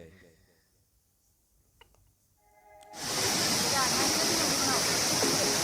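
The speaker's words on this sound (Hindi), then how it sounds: "हम लोग वाटरफॉल के ज़्यादा नज़दीक नहीं गए।" Waterfall at Pelling in Sikkim, heard as a dense, steady roar of rushing water that swells in abruptly partway through and then holds loud and constant, after a quieter opening with faint clicks.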